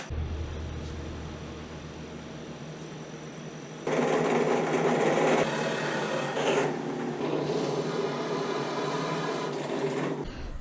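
A drill bores angled holes in hickory for spindle-backed bench seats: a low motor hum, then a louder, grinding, noisy cut that holds for several seconds and stops abruptly, heard close up.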